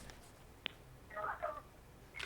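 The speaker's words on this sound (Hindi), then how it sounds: "ये फोन की आवाजें, आप लोग के घरों की आवाजें यहाँ तक आ रही हैं" Telephone-line sounds from a caller's home on a live Ramadan call-in TV broadcast: a sharp click, a short burst of muffled, voice-like chatter, then a brief tone, all faint over line hiss.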